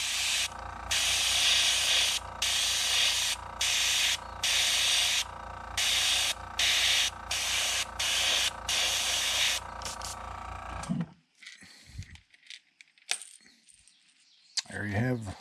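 Spray paint hisses onto a crankbait fishing lure in a series of short, evenly spaced bursts for about ten seconds, laying down light coats of a copper shad color scheme, followed by quiet handling noises.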